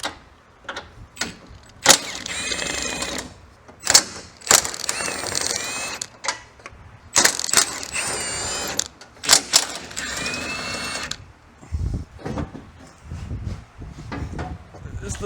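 A ratchet works loose the bumper bolts on a 2018 Chevy 2500, with bursts of rapid clicking and mechanical rattling close by, mixed with clunks and someone talking in places.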